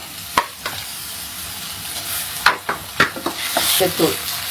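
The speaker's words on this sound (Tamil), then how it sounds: "இஞ்சி பூண்டு பேஸ்ட் போட்டுக்கலாம்" Ginger garlic paste sizzles in a hot pan while being stirred for a mutton intestine curry, with a steady frying hiss broken by sharp scraping strokes of the spoon against the pan, close up and with no talking.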